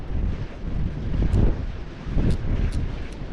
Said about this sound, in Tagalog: Kaso ang lakas po ng hangin.